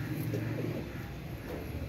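Pigeons cooing inside a crate, a low steady murmur of coos near the microphone with faint chirps above, continuous with no talk.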